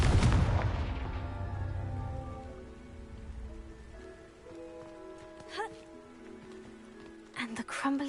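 A Confringo blasting spell goes off in the video game Hogwarts Legacy: a loud burst right at the start that fades slowly into a sustained tonal ring, then a few faint crackles and small bumps further on.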